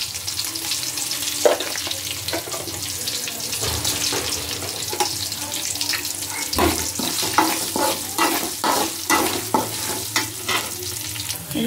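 Curry leaves and salt sizzle as a tempering fries in a pan, with steady crackle and scattered sharp pops from stirring, alone and close.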